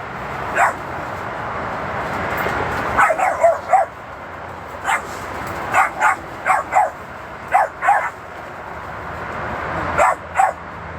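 Rescued dogs barking in short clustered bursts of two to four barks over a steady background hiss, fairly close and loud, with no speech.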